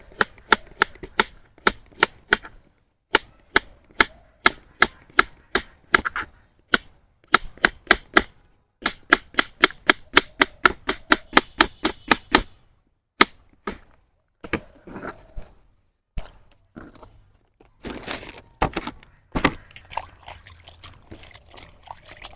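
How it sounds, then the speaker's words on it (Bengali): A knife chops a banana stem into slices, giving sharp rhythmic cuts in quick runs with short pauses, close and crisp, then looser scattered strikes toward the end. "প্রথমে থোড়গুলো এরকম স্পিস করে কেটে নেব"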